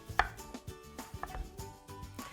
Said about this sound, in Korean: 맨 처음에 이제 무를 한번 썰어 볼 건데요. 무는 같이 채 썰어 줄 거예요.